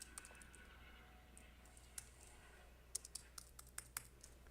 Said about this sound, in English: Let's type here